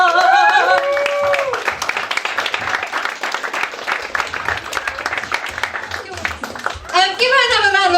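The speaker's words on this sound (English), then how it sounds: "Let's bring our wonderful host back up and give her a big round of applause" At a stand-up comedy show, an audience claps for the host in a sustained burst of applause, mixed with voices talking and calling out over it.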